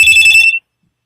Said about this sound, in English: You might want to hit the silent on that phone.